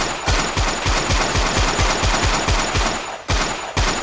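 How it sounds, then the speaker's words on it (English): Pistol shots in a video game ring out in a fast, evenly spaced burst of about a dozen loud, close cracks, with a short pause near the end. "When I shoot it, the gun explodes and the slide disappears."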